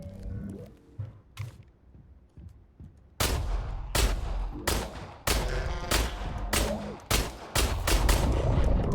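Video game gunfire in hardcore mode: after a few quiet scattered knocks, a loud sequence of sharp, heavy shots begins, about ten separate blasts spaced in quick irregular succession, close and punchy.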